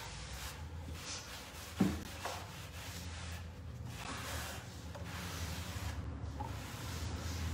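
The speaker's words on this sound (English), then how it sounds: "I'm just using a dry cloth, just a towel," Dry towel rubbed over dusty timber with an old patina, a soft steady rubbing and swishing close up, with one brief knock partway through.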